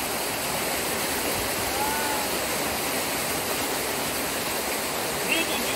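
A waterfall pours in a steady, dense roar that fills the scene at an outdoor barbecue spot, close and constant, with no other sounds rising above it.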